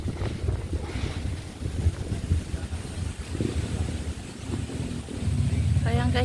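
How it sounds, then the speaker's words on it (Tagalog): Strong wind gusts outdoors at a cattle farm, buffeting the microphone with low rumbling bursts, while people talk faintly underneath. "Ay, mahangin."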